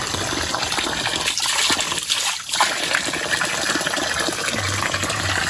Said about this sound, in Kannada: ಇದು ಮೇಲ್ಗಡೆ ಬೆಟ್ಟದ ಮೇಲಿಂದ ನೀರು ಬರೋದು